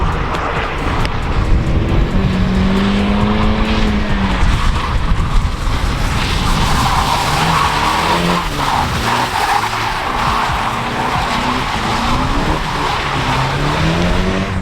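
A Toyota Supra drifts on track after a clutch-kick entry, its engine roaring loud and close throughout while tires squeal and skid in long wavering howls, the revs rising and falling continuously with no break.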